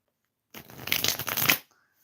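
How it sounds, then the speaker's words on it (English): Tarot cards riffled and shuffled on a lap, a dense papery flutter lasting about a second, close and alone with no talk. "I'm shuffling the cards for you right here."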